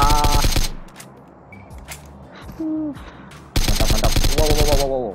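Gunfire in the PUBG Mobile battle royale game on the Sanhok map, with loud bursts of rapid automatic shots at the start and again near the end, separated by quieter stretches with isolated shots and other game sounds.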